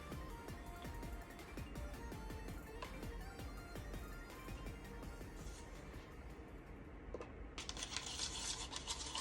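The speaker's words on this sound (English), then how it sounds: "Just mix this up really good so it's all to where I don't see it swirly." Acrylic paint mixed with Floetrol is stirred steadily, a continuous scraping, swishing rub close to the mic with no voices, turning brighter and hissier near the end.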